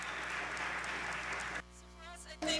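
A conference panel audience on entrepreneurship and social innovation applauds a speaker from Singularity University: a dense wash of clapping that cuts off abruptly, then a person speaks over quieter room sound.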